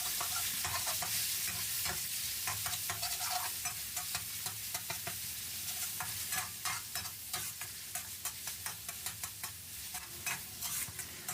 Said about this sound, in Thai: ผัดจนหมูสับได้ที่แล้วนะครับ